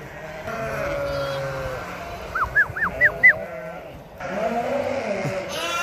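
Sheep and young lambs on a farm bleat, with a quick run of four short, wavering calls over a low murmur of farmyard noise.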